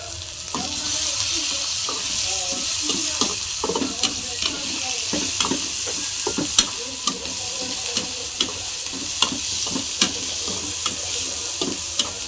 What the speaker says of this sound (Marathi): मस्त आता शिजून घेते दोन्ही.